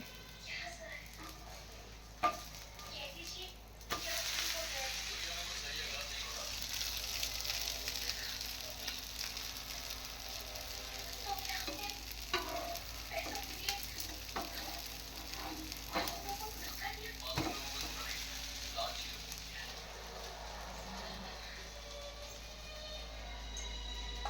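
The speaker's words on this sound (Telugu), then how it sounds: "నేనైతే దోశ అయితే పోస్తున్నాను" Dosa batter sizzles steadily on a hot pan at home, a soft continuous hiss with occasional clicks and faint background voices.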